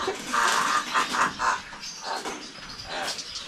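A bird gives a short series of bright calls, four or five quick notes close by, followed by fainter chirping amid some background noise.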